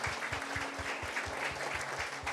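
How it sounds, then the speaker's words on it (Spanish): A church congregation claps together, steady rhythmic applause with even beats continuing throughout, moderately loud and with no speech over it. "Demos aplausos al Señor"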